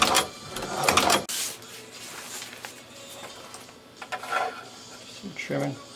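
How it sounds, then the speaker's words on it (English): A sewing machine stitches rows on a leather duffel bag, giving short bursts of rapid mechanical chatter at close range, with quieter pauses and handling noises between runs. "I'm just finishing up here my second layer, second row"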